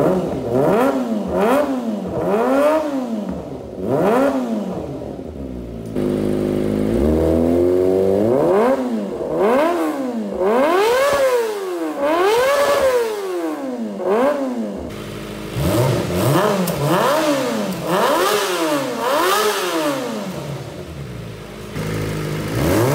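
A Kawasaki ZX25R motorcycle fitted with a new aftermarket exhaust muffler revs repeatedly, with sharp rising and falling engine sweeps in quick succession, a few sustained higher revs, loud and close with no talking.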